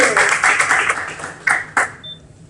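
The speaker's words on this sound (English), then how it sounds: "we give Maddie a round of applause" Audience applause at a signing-day ceremony for technical students, a burst of clapping that fades out over about two seconds with a few last scattered claps.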